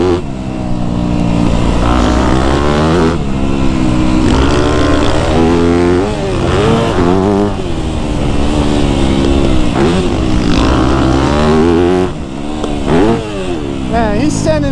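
A Yamaha YZ250F dirt bike revs hard on a dry, dusty motocross track, its engine loud and continuous with rising and falling throttle swells throughout, while a rider speaks over the noise.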